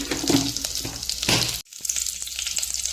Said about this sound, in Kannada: ತುಪ್ಪ ಕಾದಿದೆ. ಜೀರಿಗೆ, ಒಣಮೆಣಸಿನ್ಕಾಯಿ, ಕರಿಬೇವು ಒಂದು 4-5 ಎಸಳು ಹಾಕ್ತಾ ಇದ್ದೀನಿ.